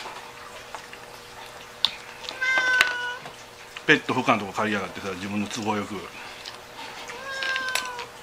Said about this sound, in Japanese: こんなにゃーにゃー言う猫飼えませんって言われた。